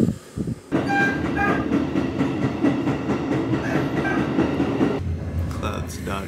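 A Keikyu Line train in Japan rumbles close by with steady rolling wheel noise and some clanking, loud and continuous before dropping off near the end.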